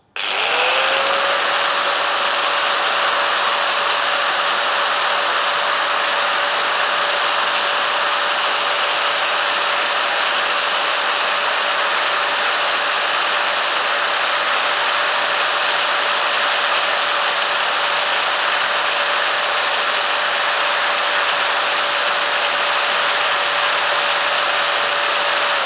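Stanley SG5100 angle grinder running at about 12,000 RPM, a loud, steady high-pitched whine that spins up at the start and holds continuously for the whole stretch, with no talking over it.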